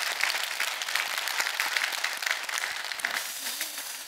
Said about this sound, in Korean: 큰 박수 한번 해주시면 고맙겠습니다